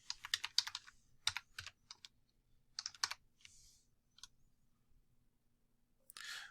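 Bursts of computer keyboard typing, quick clustered key clicks in short runs separated by pauses, close and clear in a quiet room with no talk.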